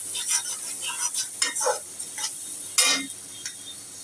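Okra stirred in a frying pan after turmeric, salt and coriander powder go in, giving a soft sizzle under repeated scraping and clinking of a utensil against the pan, close and steady.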